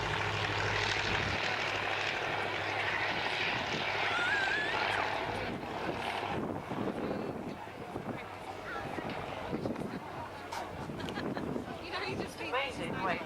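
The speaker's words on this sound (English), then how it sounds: "I really would like to have a go at flying this aircraft." A light aircraft flies overhead at a country air show, its propeller engine droning loudly and steadily for several seconds before easing into a rougher, fainter hum mixed with crowd noise and occasional voices.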